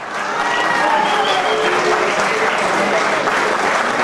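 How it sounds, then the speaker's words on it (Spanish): Loud, sustained applause from a crowd at a Colombian music tribute concert in Bogotá, dense clapping filling the whole stretch with steady intensity. "Fuerte aplauso para el maestro,"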